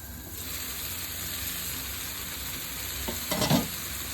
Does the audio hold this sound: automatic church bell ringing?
no